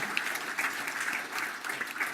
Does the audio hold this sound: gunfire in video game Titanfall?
no